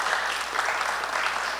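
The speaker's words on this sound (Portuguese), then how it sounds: "Uma salva de palmas para a nossa" Audience applause at a queer community talk in São Paulo, as the next speaker is welcomed: dense, steady clapping from a crowd, loud and even throughout with no pauses.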